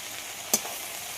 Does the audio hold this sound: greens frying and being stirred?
yes